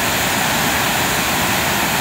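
Waterfall at Chagrin Falls, a steady full-band roar of falling water, loud and constant throughout with no voices.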